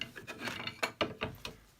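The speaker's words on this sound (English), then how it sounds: "I put my sawdust in the strainer, and only the finest comes through." Fine sawdust is shaken through a metal strainer, heard as a quiet run of rhythmic scraping, rasping strokes, about eight in quick succession, close up.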